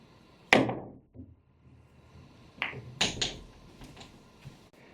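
A cue ball struck with bottom right spin on a pool table: one sharp cue tip strike, then after a pause a few clicking ball contacts and soft knocks fading out in a quiet room.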